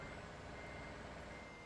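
An Iveco van in Euro Truck Simulator 2 beeps while reversing, the steady warning tone sitting under a loud, constant engine drone with no voices.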